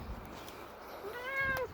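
A cat outdoors in a yard gives a single faint, drawn-out meow near the end of a quiet, breezy stretch.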